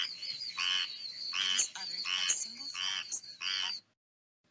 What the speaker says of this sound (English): Is this the frog version of hyperventilating?